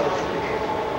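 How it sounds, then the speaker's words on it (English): A passing train rumbles in a loud, close, continuous roar with low rolling wheel noise, heard only briefly. "Watch the fucking train."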